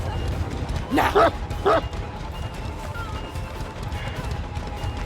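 The Houndmaster's dog in the Dead by Daylight video game lets out two short barks over steady game background noise.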